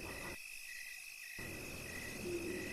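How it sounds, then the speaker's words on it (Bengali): Crickets chirping at night on a dark, silent road, a steady high trilling drone that cuts out briefly near the start and then resumes, alone with no voices. "ঝিঝি পোকাদের ডাক আজ খুব আগ্রহ নিয়ে শুনছি।"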